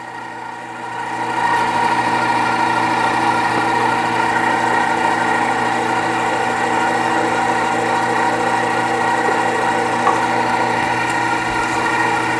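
An OKF electric meat grinder runs steadily on its first test after unboxing, a constant close motor whine and hum that starts after a softer second and holds unbroken throughout, with no talking.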